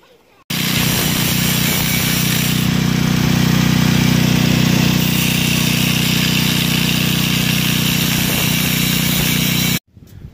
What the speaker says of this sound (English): to cut completely through this piece of oil filled pipe with the Warrior cutoff wheel